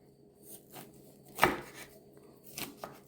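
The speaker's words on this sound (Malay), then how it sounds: "Sekarang kita ambil jagung kita ni dan kita potong macam ni" Knife cutting kernels off a corn cob, a few soft, close cuts and scrapes, one sharper stroke in the middle and a couple more near the end, with no speech.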